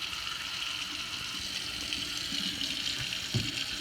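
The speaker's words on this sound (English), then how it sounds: "I've restored the water, or open the valves from down below." Water runs steadily from a Delta two-handle kitchen faucet with sprayer after the supply valves below the sink are reopened, a continuous broadband rush with a few small splashes and clunks near the end, close and alone.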